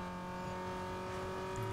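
Car engines in the racing game Need for Speed Underground 2 hold a steady, close droning whine for a brief moment, with a slight swell near the end and no talking.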